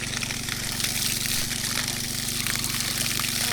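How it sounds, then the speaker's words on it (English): Water pours in a solid stream from a newly installed well pump in Alaska, a steady, close, rushing gush with a low mechanical hum beneath it and no voices. "Look at that, just solid stream of water."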